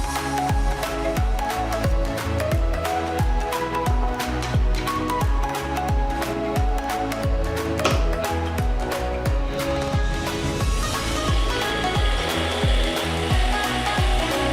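A lathe takes a facing cut on a copper ring held on an expanding mandrel, making a close, rhythmic scraping chatter that repeats steadily and brightens near the end.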